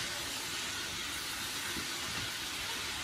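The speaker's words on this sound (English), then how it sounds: "So I'll leave that sizzling there." Vegetables sizzle in a hot pan after a splash of water is added, giving a steady, loud hiss that runs unbroken throughout with no talking.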